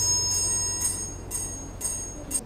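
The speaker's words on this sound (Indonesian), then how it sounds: "Triangle." A metal triangle struck four times at a steady, roughly half-second pace, each strike ringing bright and sustained before the next, close and alone over a faint background hum.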